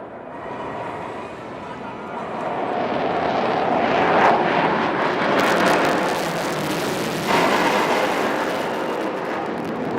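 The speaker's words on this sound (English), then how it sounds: "the pilot will now execute a remarkable maneuver called the tail slide." A large aircraft weighing about 30 tons with two crew flies a tail slide at a beach air display in Chennai. Its broad engine roar swells and stays loud for the whole stretch, with a commentator talking faintly underneath.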